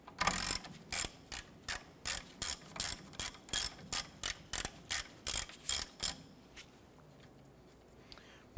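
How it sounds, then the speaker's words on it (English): A ratchet loosens the 14 mm caliper bracket bolts on the front brake knuckle of a 1993-1997 Ford Ranger, giving about a dozen evenly spaced bursts of close, crisp clicking that then stop, with quiet shop background. "We're going to remove our two 14 millimeter bolts holding our caliper bracket to the knuckle."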